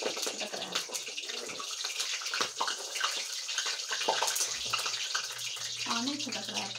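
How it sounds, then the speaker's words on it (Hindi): Water splashes and sloshes continuously nearby for several seconds, with irregular bursts of spatter and trickling throughout. "पानी छटक रहा है पानी।"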